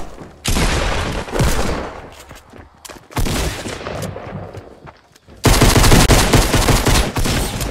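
Loud video game gunfire, shotgun blasts and rapid bursts, crackles in dense, sustained volleys that drop briefly before surging back even harder, with no talk over it.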